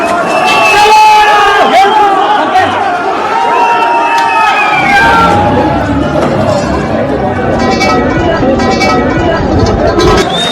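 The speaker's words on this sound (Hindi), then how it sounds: "लेह में हजारों की भीड़ बेकाबू हो गई।" A huge crowd of thousands in Leh surges and shouts, a loud, chaotic roar of yelling and chanting voices with sharp individual cries rising above the steady din throughout.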